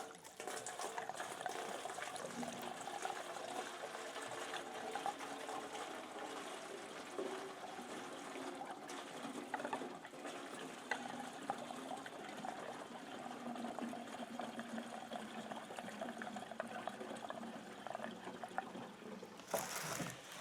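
Steady pouring and trickling of two-stroke oil into a container for chainsaw fuel mix, a continuous gurgling flow that runs throughout with no talking.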